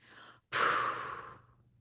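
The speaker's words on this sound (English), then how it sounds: "sniffing twice through your nose, and then letting an exhale out" Two quick sniffs through the nose, then a long, soft exhale that fades out, close and clear.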